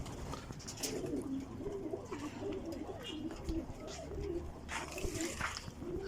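Pigeons coo steadily on a rooftop in a repeating, close rumbling call, with a faint watery background and occasional soft chatter.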